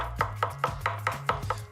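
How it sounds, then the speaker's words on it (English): A kitchen knife slices mushrooms finely on a chopping board, cutting in seven crisp, evenly spaced strokes at a quick, steady rhythm, close and fairly loud, with a faint low hum underneath and no talking. "just slice the mushrooms down"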